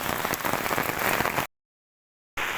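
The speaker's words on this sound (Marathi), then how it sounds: "पाऊस अजून सुद्धा जोरात चालू आहे" Heavy monsoon rain in Kerala pours in a dense, steady hiss, then cuts to a brief silent gap before resuming just as strong.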